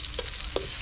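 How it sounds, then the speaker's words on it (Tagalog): Silver carp frying in a pan for a garlic-and-chili sauté, with a soft steady sizzle and two brief louder scrapes of stirring, close and without talk. "Gisa muna natin para masarap-sarap."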